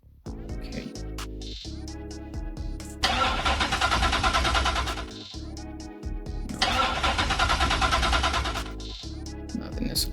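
A 1968 Mustang GT500 engine cranks and catches, then revs hard twice with loud, full bursts between rougher idling stretches. Close and loud, with no talk over it.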